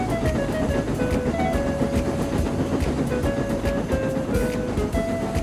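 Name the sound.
train running on tracks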